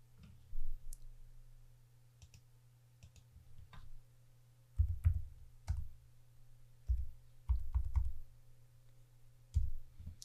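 Computer keyboard keys tapped in irregular short bursts, quiet clicks separated by pauses over a low steady hum, no voices.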